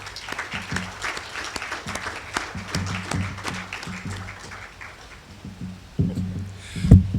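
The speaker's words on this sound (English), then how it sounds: "a very big and resounding round of applause" An audience at a bank headquarters groundbreaking ceremony in Zimbabwe claps for a guest of honour, a moderate, uneven round of hands that rises and fades in waves, with a sharp thump near the end.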